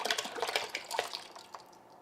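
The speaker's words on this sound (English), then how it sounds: "So we can just dump this water out here." Water poured out of a plastic bottling bucket during homebrew beer bottling splashes and drips for about two seconds, a close, moderately loud gurgle that thins out toward the end.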